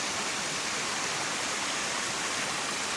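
Steady broadband roar of Mountaineer Falls on the Appalachian Trail, water crashing continuously and close by at an even level from start to finish, with no talking over it.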